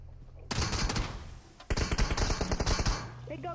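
Bursts of rapid automatic gunfire, loud and close, in two long volleys separated by a brief pause.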